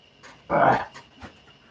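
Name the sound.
dog barking excitedly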